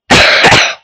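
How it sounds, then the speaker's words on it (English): A single harsh cough from someone with a head cold, loud and close, lasting under a second with no talk around it. "To hear me start coughing."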